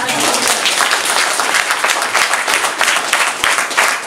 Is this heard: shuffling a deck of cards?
no